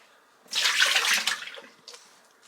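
Water running from a tap while homemade butter is rinsed, a short close splashing burst that rises abruptly, holds for about a second and tapers off, followed by a faint trickle.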